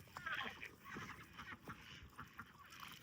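Ducks on a high-altitude Himalayan farm squabble over food, giving a busy run of honking, quacking calls close by, with a person speaking intermittently.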